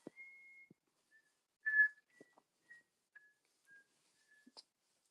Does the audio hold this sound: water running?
no